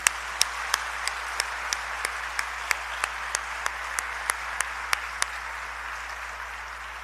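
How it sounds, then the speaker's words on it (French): An audience at an academic ceremony gives sustained applause, a broad hiss of many hands with a few sharp, evenly spaced louder claps standing out near the front. "75 merci et un vibrant applaudissement"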